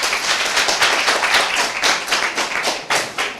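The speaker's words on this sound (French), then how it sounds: "Je vous prie d'applaudir pour lui." An audience applauds at a school event, with close, dense clapping that surges in uneven bursts over a few seconds.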